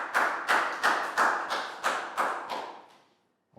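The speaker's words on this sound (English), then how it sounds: "Big round of applause for Prel" Classroom round of applause from a group of young pupils: a burst of rapid clapping in several swelling waves, about eight surges over three seconds, close and lively, fading out before a brief voice at the end.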